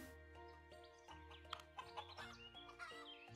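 A chicken clucks in the video game Equilinox, a few short faint clucks over soft steady in-game music.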